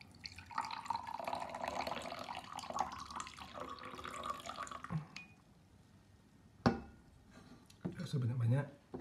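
Bitter coffee being poured, a liquid trickle and drip running through the first five seconds, then brief clatter and a short low splash near the end, with a voice speaking over parts of it.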